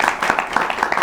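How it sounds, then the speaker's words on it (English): A small audience claps briefly in a live political talk show studio, a short burst of scattered hand claps with no voices over it. "Yeah, let's clap for that."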